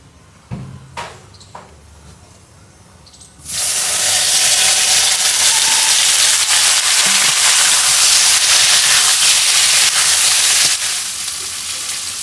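Taro root (kochur mukhi) dropped into hot oil: after a few quiet knocks, a sudden loud, dense sizzle bursts in and holds strong, then eases slightly toward the end.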